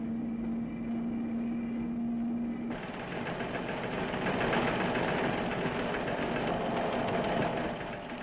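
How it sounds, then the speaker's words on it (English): Engines of a Royal Marine landing craft bringing equipment ashore in 1953 drone steadily, first a low hum with a tonal whine, then a louder throbbing, knocking engine roar. "In their wake comes the equipment itself, taken ashore in landing craft manned by Royal Marine."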